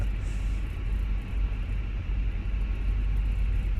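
An Airbus A320 airliner in Microsoft Flight Simulator gives off a steady low rumbling rattle. It holds evenly and close for the whole span with no talk.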